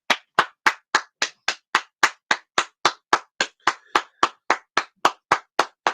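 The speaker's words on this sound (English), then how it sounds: "I'm clapping for the sentiment in itself." Hands clap in a steady, even rhythm, about twenty sharp, close claps at regular intervals, loud and clear with no talking underneath.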